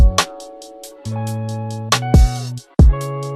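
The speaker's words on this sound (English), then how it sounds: "I'm in the mall right now waiting on my brother-in-law." Music plays in the background of a shopping mall, with sustained melodic tones and plucked notes that break off briefly now and then, heard alone with no talking.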